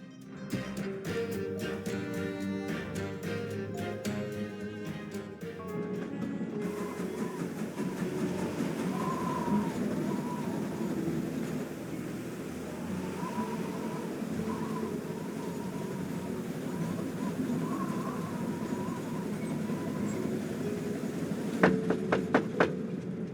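A train on the Orient Express route rolls steadily along the rails, a continuous low rumble with faint clicking, joined early by a few brief rhythmic knocks.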